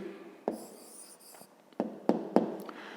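Pen writing an answer for a fifth-grade math exercise, soft scratching strokes with a few sharper taps as the pen meets the paper, close and quiet with no talk.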